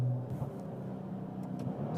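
A Maserati Levante twin-turbo V6 petrol engine rumbles and revs moderately in the mid range, a steady low growl with slight rises, heard from inside or near the SUV without talk.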